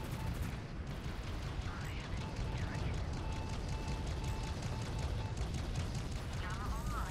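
Spaceship weapons firing in Fractured Space, a continuous rumbling stream of energy shots and booms with rising whine tones, under someone talking.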